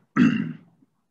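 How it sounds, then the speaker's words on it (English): A single short, muffled throat clearing, like a stifled cough, close by and fairly quiet, followed by silence. "I'm sorry, I'm trying to avoid coughing."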